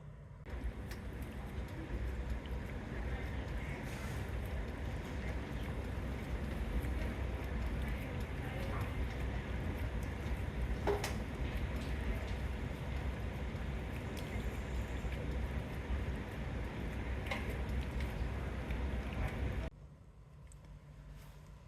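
Lab tubes holding extraction solution shake on an orbital shaker at 100 RPM, a faint steady rattling whir that runs evenly for about twenty seconds and then stops abruptly.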